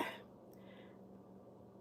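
A person gives a short cough right at the start, then only a quiet, steady room hum follows.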